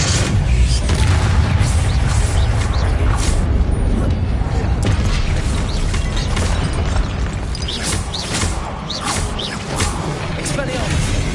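Incendio fire spell cast during combat in Hogwarts Legacy, a loud dense rush of fiery blasts and booms that runs for the whole stretch, with rumbling low-end and crackling bursts layered together.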